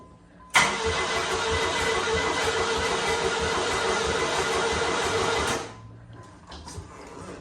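A Pontiac Fiero being restored cranks and fires, a loud, steady whirring engine roar starting abruptly and holding for about five seconds before cutting off, leaving a faint low rumble.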